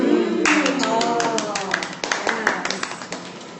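A live audience at a cooking show claps in a short burst of applause that thins into scattered claps, heard under a person talking.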